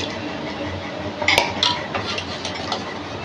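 A spoon scraping and clinking inside a steel pot while mango curry is stirred, several sharp metallic taps and scrapes over a soft background hiss, no talking.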